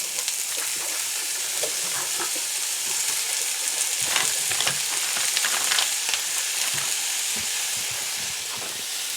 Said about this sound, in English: I'm going to start putting these into the skillet.